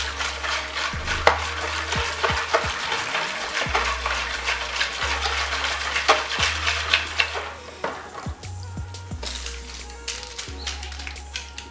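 A spoon stirs the Congolese sky ice cream mixture in a bowl, with repeated scraping and tapping against the sides and a low hum underneath.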